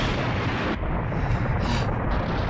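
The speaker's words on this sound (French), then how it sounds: "Et ces explosions?" Rumbling blasts of a long-range bombardment in an anime battle, a dense, continuous low roar of explosions with a sharper impact partway through, loud and close, with no voices over it.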